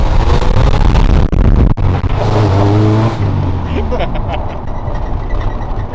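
Loud Subaru-based engine of a Factory Five 818 kit car revving and accelerating up through the gears close by, then settling as people talk over it.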